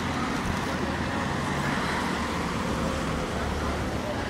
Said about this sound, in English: We've got a few Volvo Olympians here in Ashby